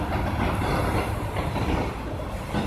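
A Union Pacific intermodal double-stack train with a DPU at the rear rolls past a road crossing, its loud, steady rumble and rail clatter filling the scene at close range with no break.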